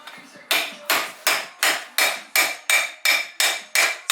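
Ten sharp metal blows land in a steady rhythm as a hub is hammered out of a Subaru Legacy knuckle, each strike loud and close with a brief ringing decay.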